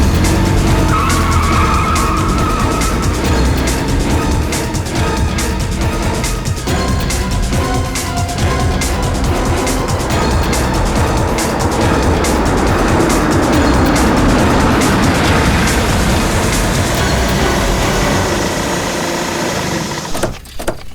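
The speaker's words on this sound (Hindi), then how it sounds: "गाड़ी स्टार्ट करो" A car starts and speeds off with tires skidding and squealing, a loud, dense roar of engine and tire screech lasting throughout before cutting off abruptly at the end.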